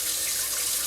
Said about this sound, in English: that we get the water running there so that nothing stays stuck to the pan